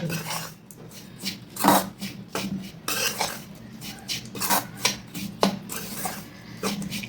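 Metal utensils scrape and clink against a pot in repeated bursts as thick rice dough for neer urundai is stirred, fairly close and steady.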